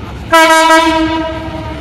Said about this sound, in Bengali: আপনারা দেখতে পাবেন ওই যে দেখুন ট্রেন